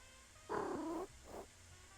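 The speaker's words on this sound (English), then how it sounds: "I can literally only interact with the cat." In the video game JudgeSim, a cat gives a half-second purring, meow-like call and then a shorter, softer one. The calls are close and clear over faint background hum, with no speech.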